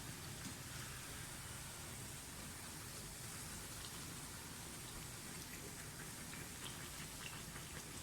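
Aloo puri sizzles steadily in hot frying oil, a dense, even crackle and hiss that holds at constant loudness throughout, with no talking.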